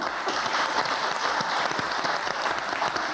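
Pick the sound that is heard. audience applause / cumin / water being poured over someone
audience applause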